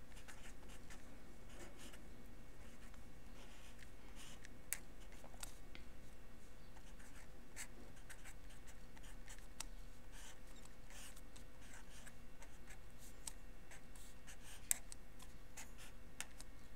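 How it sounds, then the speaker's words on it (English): A pen or pencil scratches steadily on paper as calculus work is written out by hand, a soft continuous scratching with faint taps and no talking. "So I'm going to write out what I'm going to have to find the derivative of."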